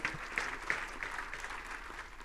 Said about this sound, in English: let's give all a round of applause for all the panelists